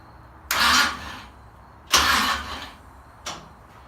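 A 1946 International KB truck engine cranking on a newly installed starter, three short bursts of whirring with the longest first and a brief final one, close by with no voices.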